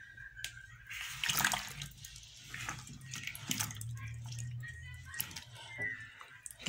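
Potatoes are swished and rubbed by hand in a bowl of water, giving a soft, continuous sloshing and splashing with a few louder splashes and faint drips, recorded quietly at close range.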